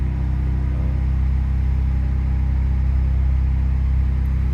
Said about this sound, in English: So exhaust is in normal, and go into sport, makes it a slightly deeper sound.